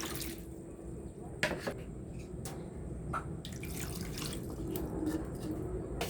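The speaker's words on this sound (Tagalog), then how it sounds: "Lagyan po natin ng 2 cups water." Water poured into a pan for boiling watermelon-rind candy, a faint continuous trickle with a few soft drips and light clinks over low background hum.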